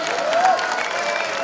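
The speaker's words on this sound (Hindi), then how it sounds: "जोरदार तालियां दोस्तों।" Loud, continuous clapping and cheering from a crowd rolls through a live music concert, with a faint musical tone held underneath.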